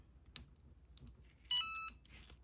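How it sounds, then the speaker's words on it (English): A heat press used for crafting gives a short electronic beep, a single brief tone that is clear and fairly close, set against quiet room sounds and faint clicks. "the heat press just beeped that it is ready"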